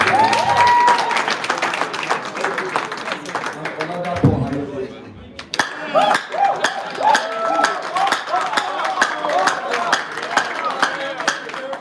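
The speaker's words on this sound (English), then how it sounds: "A round of applause." Applause at a student association convention and election as a treasurer candidate is announced: a burst of clapping from the crowd, briefly fading, then resuming with scattered claps under a speaking voice.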